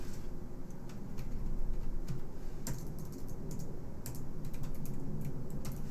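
Soft, rapid keystrokes on a computer keyboard, a quiet stream of light clicks over a low steady background hum, with no voices.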